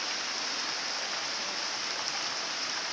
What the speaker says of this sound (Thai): เดี๋ยวนี้ฝนก็ตกนะครับฝนตก